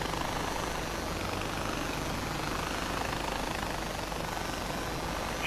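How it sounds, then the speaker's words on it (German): A homemade helicopter in the video game Far Cry 4 flies with a steady, continuous rotor and engine drone that holds at an even level throughout. "Wir haben unsere Hubschrauber. So ein selbstgebastelter Hubschrauber."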